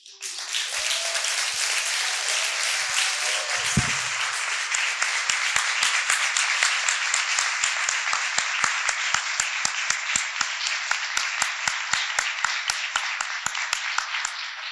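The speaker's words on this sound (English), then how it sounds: "please stand one more time, all 9, for a round of applause" An auditorium crowd gives a sustained round of applause for nine Kentucky achievement award winners at a ceremony, a steady roar of many hands clapping that carries on for the whole stretch with a few sharper claps near the front.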